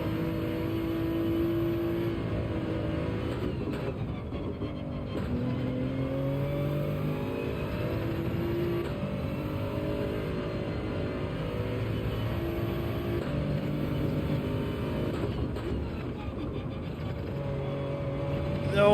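A Toyota Supra racing car in Gran Turismo 7 at Road Atlanta drones at a steady, high-revving engine pitch for nearly twenty seconds, with faint rises and dips as it shifts, and no one talking over it.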